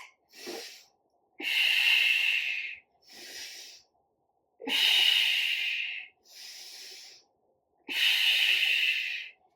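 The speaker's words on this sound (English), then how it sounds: "Big breaths in, big breaths out." Deep exercise breathing during a strength and mobility workout: three long, loud exhalations alternate with shorter inhalations in a steady, close rhythm, with no talking.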